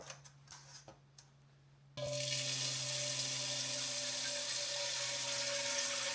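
Water runs from a tap into a cooking pot in a loud, steady, continuous stream after a few quiet kitchen clicks, with no talk over it.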